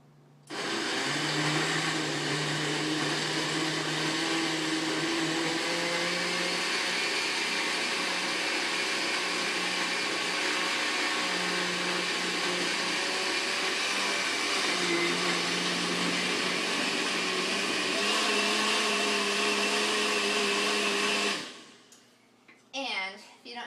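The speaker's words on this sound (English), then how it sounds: "Alright, so I'm going to go ahead and blend it." A loud, steady motorized whir runs for about twenty seconds as a blender grinds a green smoothie, then cuts off abruptly, followed by brief clatter.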